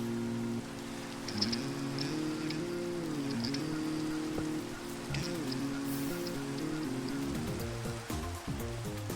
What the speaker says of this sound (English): Let's also go to bed to get rid of this nasty rain.